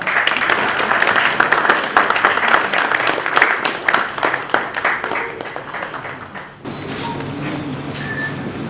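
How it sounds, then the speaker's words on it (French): Audience applause at a formal session in the DRC, dense and steady at first with a creak or door-like noise, then thinning out and fading toward the end. "Applaudissez quand même."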